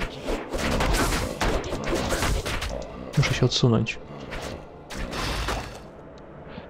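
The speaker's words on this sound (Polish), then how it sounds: "To już było niebezpieczne, taki podwójny wybuch" Two booming blasts in quick succession amid Diablo 2 gunfire and crashes, while someone speaks briefly over the action.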